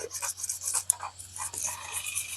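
Aluminum foil rubbed against the aluminum frame of a 1994 Mongoose Expert Pro barn-find bike while polishing it: steady close back-and-forth scratchy rasping strokes in a quick rhythm, with no talking.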